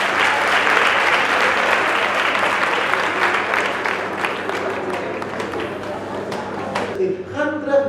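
Learners aged 12 to 17 applauding at a COVID-19 vaccination campaign event in Mariental, a loud continuous burst of clapping that gradually thins, with a voice coming in at the end.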